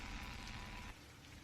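Steady rain falling during a tense fantasy role-play scene, a dense continuous hiss that holds fairly loud, then drops slightly in level partway through.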